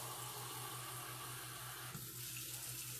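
Squirt bottle spraying water into a container of tomato seeds to stir them, a steady close hiss of spray running throughout.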